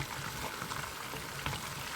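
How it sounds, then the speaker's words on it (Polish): Polish pączki doughnuts fry in hot oil, a continuous dense bubbling sizzle, close and even in level, with no talking. "Smaży mi się 5 minut."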